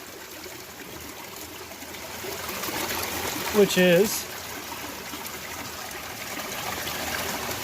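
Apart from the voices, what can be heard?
small creek flowing out of a cave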